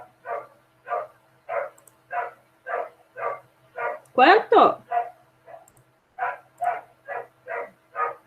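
A dog barks repeatedly in a steady rhythm of about fifteen short barks, with one louder, higher yelping burst in the middle, heard indoors at moderate distance while a person speaks briefly.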